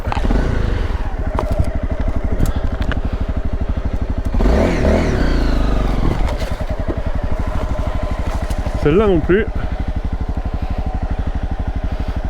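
A motorcycle engine chugs and revs steadily up close as it rides over rough ground, with clattering and a brief spoken remark.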